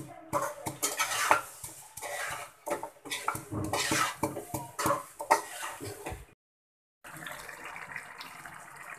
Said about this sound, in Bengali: এখানে আমি কিছুটা কাঁচামরিচ আর লবণ নিয়ে নিয়েছি, এটা আমি থেতো করে নেব